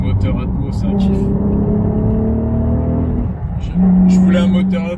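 Naturally aspirated VR6 engine in an Audi A3 8P while driving, a steady droning engine tone that swells into a louder rising pull near the end, with talk over it.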